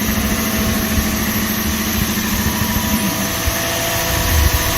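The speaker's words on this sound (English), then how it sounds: "The Toyota Tundras seem to have a little bit higher idle at the beginning." A 2006 Toyota Tundra with a 4.7 liter V8 idles slightly high just after starting, a loud, steady engine drone with a constant hum close by.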